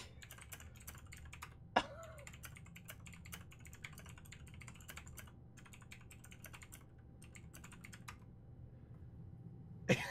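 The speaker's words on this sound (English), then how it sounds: "I was typing back to him" Rapid, light clicks of typing on a computer keyboard run in dense bursts with short pauses, fairly close over a quiet hum, with a couple of sharper knocks and no speech.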